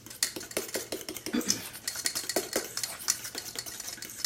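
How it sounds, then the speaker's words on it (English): Spoon or whisk stirring apple cake batter in a bowl, giving a run of close, quick clinks and scrapes against the sides with a steady rhythm, moderately loud and without talk. "I'm going to stir that a little bit more"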